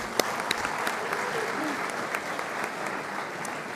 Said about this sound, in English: So now I want to give a big round of applause to all of you